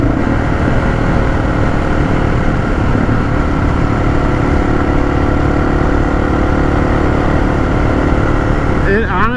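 A Honda XR650L motorcycle rides along a road strewn with gravel and debris. Its engine makes a constant, loud drone with a wind-buffeted rumble throughout, ending in a brief rattle.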